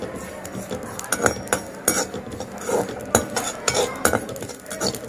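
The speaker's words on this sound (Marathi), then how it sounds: "खसखस छानपैकी भाजली आहे," Poppy seeds roasting in a pan while being stirred, with repeated light metallic scrapes and clinks of a utensil against the pan, close by and fairly quiet, and no talk.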